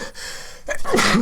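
A person gives one quick sharp sneeze after a brief gasping intake of breath, heard up close and alone.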